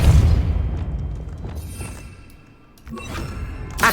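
A Depulso spell is cast in Hogwarts Legacy, a heavy booming blast that fades out over two seconds, followed by a rustling whoosh and a smaller thump at the end.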